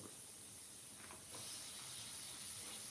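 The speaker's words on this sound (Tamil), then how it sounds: "ஸ்டீம் குறைஞ்சோன்னு தான் நான் வந்து அடுப்பை இது பண்ணிவிட்டு குக்கரை வந்து காமிக்க முடியும் ஸ்டீம் குறையட்டும்" Steam hisses steadily from a pressure cooker on the stove while a vegetable kurma cooks. The hiss is a constant, airy rush that swells slightly halfway through, with no talking.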